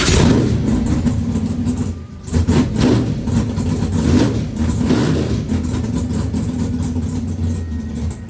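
A no-prep project car with a blown fuse is cranked and then runs, its engine loud and close with uneven revving and idling, the rumble dipping and surging in waves.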